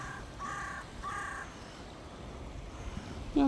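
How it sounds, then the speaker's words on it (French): Crows cawing outdoors on a morning walk, three distinct harsh caws in a row at a moderate distance over faint background ambience, followed by quieter surroundings. "il y a des corbeaux là aussi."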